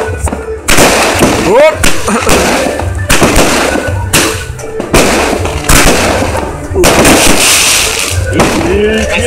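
New Year fireworks burst over Bozhuritsa beach in loud, close repeated blasts with whistling launches and crackling, while people talk and shout excitedly between and over the explosions.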